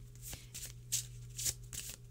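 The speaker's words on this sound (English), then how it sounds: "I am gonna shuffle." A deck of Archie McPhee Super Awesome Future fortune cards is shuffled by hand in a few quick riffling bursts, crisp and close, with short pauses between them and no voice over them.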